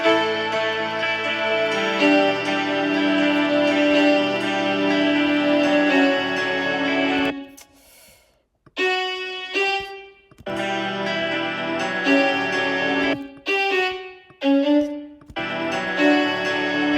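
Sustained, thick harmonic power chords from a string arrangement ring out loud and steady, broken by a few brief pauses and choppy stops before resuming; no voices.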